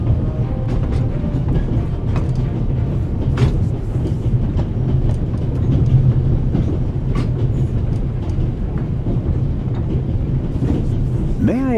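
A train running on rails in The Raven Remastered video game: a continuous loud rumbling roll with faint clickety-clack, steady throughout, with a short rising whine near the end.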